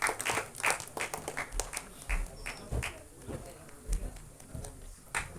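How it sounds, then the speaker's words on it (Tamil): At an album song screening festival, an audience claps in a patter of scattered hand claps close by, with some louder bursts, and talk continues underneath. "ஒரு பலத்த கைத்தட்டல் கொடுங்க."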